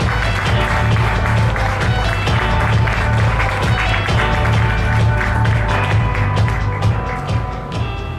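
A crowd claps steadily at an app competition awards night in 2013, the applause a thick, continuous patter of many hands that tapers slightly toward the close.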